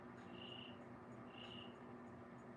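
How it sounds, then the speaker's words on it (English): A cricket chirps faintly in two drawn-out bursts against a steady background hum, with no voices present. "Y'all hear the cricket?"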